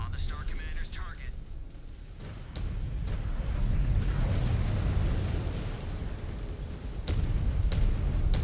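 Heavy rumbling explosions of a mech being destroyed in MechWarrior 5: Clans, loud and sustained with sharp blasts around the two- and seven-second marks, under game combat noise.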